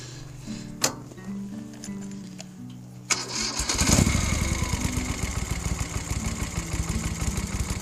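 A motor cranks for a few seconds, then catches and starts, settling into a loud, steady, chugging idle.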